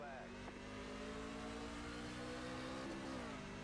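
Race truck engine in the iRacing video game accelerating at the green flag, a loud, sustained rising drone with layered engine whine, up close and continuous, with other trucks roaring around it.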